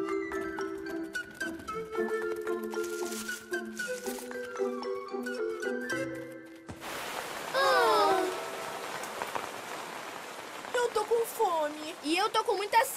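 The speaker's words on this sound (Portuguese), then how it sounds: "parece que vai começar a chover." Rain sets in over a cartoon scene in the animated children's series Kid-E-Cats, a soft broadband hiss rising after a stretch of music, with young characters' voices chattering over it.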